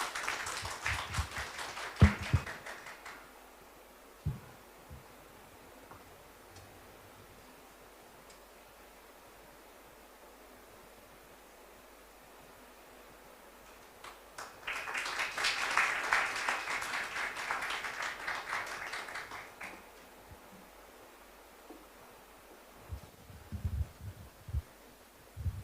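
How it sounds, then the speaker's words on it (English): An audience at a cardiology conclave applauds in a hall, a short burst of clapping at the start and a fuller, sustained round later, with quieter stretches between and scattered claps at the end. "So big round of applause for that."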